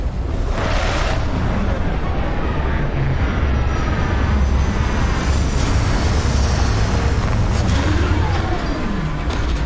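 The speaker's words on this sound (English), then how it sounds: "Landing struts primed. Retros firing." Spaceship retro thrusters firing during a landing in Starfield, a loud, continuous roaring rumble like a jet engine, steady throughout with faint shifting whines layered on top.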